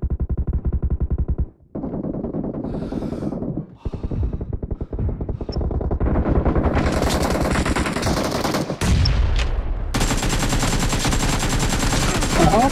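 Gunfire in a team deathmatch mobile shooter match, with sustained rapid automatic bursts broken by brief gaps, loud and close under busy game effects.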